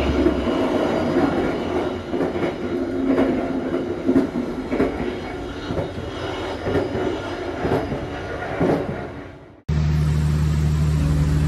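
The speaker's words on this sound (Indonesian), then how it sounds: "kereta api yang saya naik ini tiba di stasiun Ngrombo untuk beberapa saat menaikkan penumpang" A passenger train rumbles steadily with clattering wheels and faint squeals, heard from inside a carriage as it arrives at a station, then the sound cuts abruptly.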